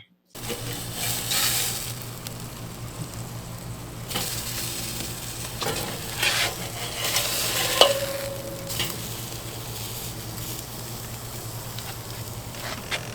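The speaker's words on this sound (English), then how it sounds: "Now I'm going to give it a little stir." Sloppy joe mixture being stirred in a hot pan, with a steady sizzle and frying hiss and occasional scrapes of the utensil against the metal, close and continuous for the whole stretch.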